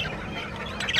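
A budgerigar chirping in an aviary, a quick burst of bright, scratchy twittering with a sharper chirp near the end.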